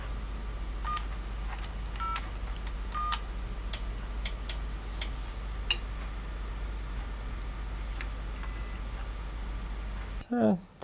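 Touch-tone keypad dialing on a telephone connected through an office PBX, calling a modem's number: a quick series of short, clear DTMF beeps at an uneven pace over a steady low hum, followed by a brief handling clatter at the end.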